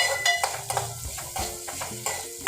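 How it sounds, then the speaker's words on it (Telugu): Fresh grated coconut frying with cumin seeds in a pan for mint chutney, a close, steady crackling sizzle with repeated scraping stirs of a spatula throughout. "జీలకర్ర అవన్నీ కొంచెం ఫ్రై అయిన తర్వాత పచ్చి కొబ్బరి వేస్తున్నాను"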